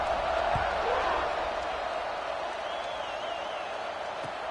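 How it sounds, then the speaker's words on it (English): A stadium crowd at a football game keeps up a broad, steady buzz of many voices a short way off, with a few sharp thuds and a faint whistle running through it. "this crowd is buzzing after that last score"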